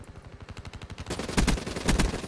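Rapid automatic gunfire from a Call of Duty match, a dense stuttering burst of shots that swells into louder, heavier blasts near the end, close and alone without talk.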